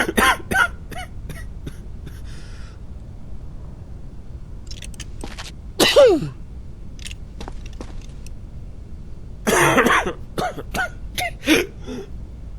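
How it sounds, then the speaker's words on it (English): A character in the video game Quarantine Zone coughs in several short bursts, a cluster at the start and louder fits around six and ten seconds, separated by quiet gaps. "Coughing."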